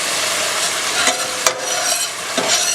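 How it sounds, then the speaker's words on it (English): Onions and spices, including cassia bark or cinnamon stick, stirred in a hot pan for homemade curry, giving a steady sizzle with scraping stirs, close up and without talk. "Just stir that around for about 30 seconds to a minute, just to release the flavours of the cassia bark or cinnamon stick"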